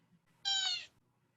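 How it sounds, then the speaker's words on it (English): A cat gives a single clear meow, close and fairly loud, lasting about half a second against a quiet background. "A cat?"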